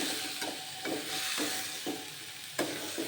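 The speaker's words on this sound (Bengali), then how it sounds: "দিয়ে ভালোভাবে এই আলু আর মটরটাকে কষতে হবে" Boiled potatoes and peas sauté in a karahi, with a steady close sizzle broken by regular scraping stir strokes about every half second and no talk.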